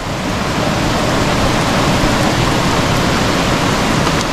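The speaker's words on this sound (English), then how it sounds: "Getting a lot of rain, that's for sure." Heavy rain pours down outdoors in a loud, unbroken hiss that stays even and dense from start to finish, with no voices over it.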